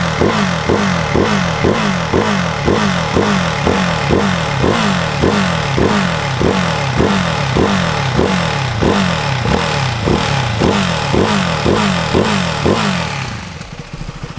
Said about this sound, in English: I'm gonna rev it up to 5-6K